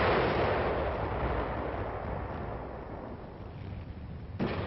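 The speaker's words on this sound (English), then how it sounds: "Fire mission, enemy mortar, coordinates 384-621." Artillery fire on an enemy mortar position in Korea, with no single sharp blast but a heavy, sustained roar and rumble of distant guns that slowly fades, with a small thump near the end.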